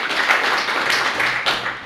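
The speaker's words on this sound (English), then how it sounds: "Big round of applause for Alan." Audience applause at a chess club speech night, a sustained wash of clapping from a room full of people with a few louder surges, continuous throughout and without talk over it.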